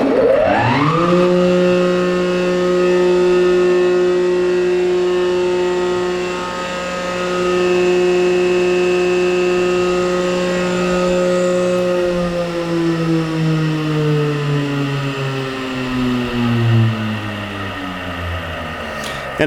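An Oliver Model 12 CD 24-inch jointer with grinding bar starts up and runs at a loud, steady hum, then winds down slowly as it coasts to a stop.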